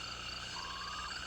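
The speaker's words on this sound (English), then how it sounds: "Oh, that's a tree frog." A tree frog in fig trees croaks in a short, faint trilling call against a quiet background.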